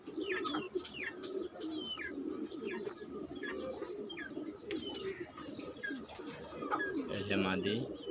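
Pigeons coo in a loft, repeated soft throaty calls close by, mixed with chirps from other birds, while someone talks over them in Bengali.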